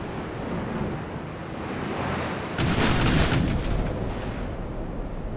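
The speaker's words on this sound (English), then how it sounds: "Oh, nice hit. You can detonate a magazine." A warship's magazine detonates in the naval game Ultimate Admiral: Dreadnoughts: one heavy, broad blast bursts out just past the midpoint and rolls on over a steady wash of sea and wind rumble, with no voices.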